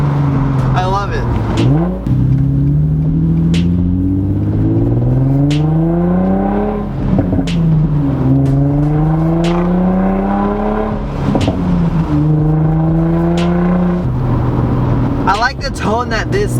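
An Infiniti G35 with a budget aftermarket exhaust revs hard toward full RPM, the loud engine note climbing and falling in repeated sweeping pulls, close and dominant throughout.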